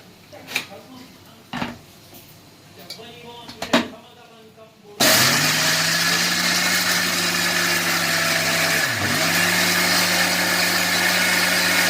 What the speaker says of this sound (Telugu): ఇంకా నేను నీళ్ళు వేసి మిక్సీ కొట్టి చూపిస్తాను